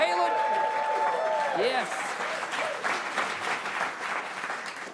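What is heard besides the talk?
studio audience applause for musical guest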